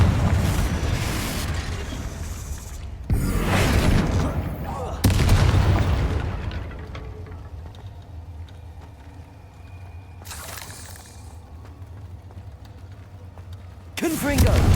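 Hogwarts Legacy spell combat with repeated Confringo blasting spells, loud bursts arriving in separate waves with fiery crackling tails, mixed with game effects and the player calling out spells.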